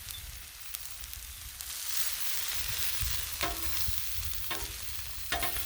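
Chicken fries on a hot griddle with a steady, soft sizzle, broken by a few sharp clicks and scrapes from cooking utensils.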